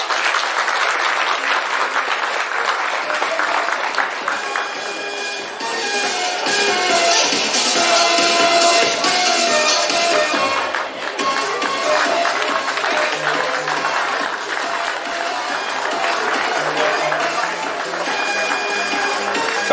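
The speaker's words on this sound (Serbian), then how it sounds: "Aplauz za njih." Loud, sustained applause and cheering from a crowd at a children's hat parade in Novi Bečej, dense and continuous with some shuffling, and voices mixed in underneath.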